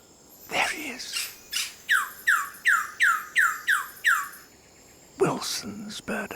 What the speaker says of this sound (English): Wilson's bird of paradise.